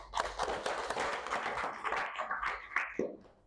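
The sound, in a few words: clapping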